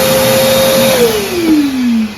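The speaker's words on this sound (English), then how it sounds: "that kicks on my big shop vac under there, which in turn goes into this bucket, draws the chips in" A large shop vacuum under a jointer, drawing chips into a 5-gallon bucket dust container, whines steadily and loud, its motor pitch sliding downward near the end, with no talk.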